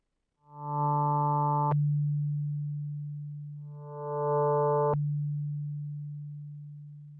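A Yamaha SY77 FM synthesizer sounds two sustained pad notes. The bright modulated overtones of each cut off abruptly, leaving a plain, pure hum that fades slowly.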